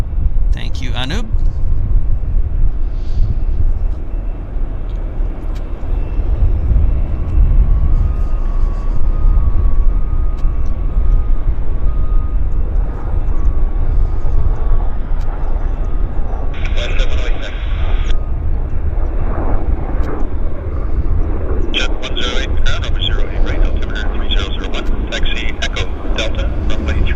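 An airliner takes off from Vancouver airport on flight 186 to Delhi, a steady broad engine roar that holds throughout while a voice talks over it.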